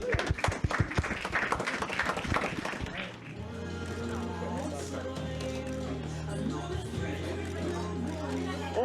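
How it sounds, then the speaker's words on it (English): An audience claps and cheers at a live band podcast event in a record store, a loud burst for three seconds that gives way to steady room noise and murmuring. "Thank you, a round of applause."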